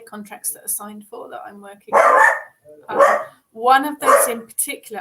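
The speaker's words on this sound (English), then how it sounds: "I apologise for the dog." A dog barks indoors in the room, with a few loud, sharp barks breaking in between and over a person's steady talking.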